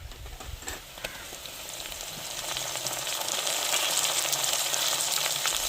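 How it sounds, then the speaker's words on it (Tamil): Onions and curry leaves sauté in a hot pan for a crab gravy, giving a steady, close sizzle that builds slightly louder as it goes, with a few faint stirring scrapes and no talk. "தேவையான கருவேப்பிலை போட்டுக்கிறோம் வெங்காயம் நல்லா வதங்கி வரட்டுங்க"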